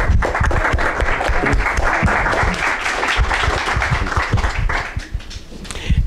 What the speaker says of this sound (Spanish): un aplauso fuerte para nuestro ponente